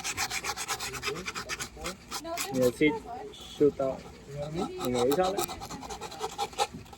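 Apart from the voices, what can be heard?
hand sanding wooden birdhouse parts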